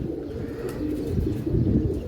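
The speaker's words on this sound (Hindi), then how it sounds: "लें जी, कबूतर पकड़ा गया।" Low, soft pigeon cooing repeats close by, mixed with gusty wind noise from strong wind.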